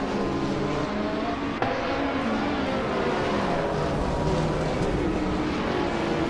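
Race cars speed past in a racing video game, with a steady roar of engines and continuous whooshing that holds at an even loudness.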